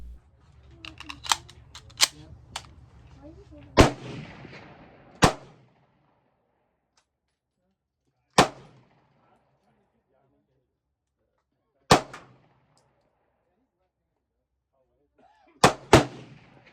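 P08 Luger handgun fired, loud sharp reports spaced irregularly, a few close together then single shots several seconds apart, with someone talking quietly between the early shots.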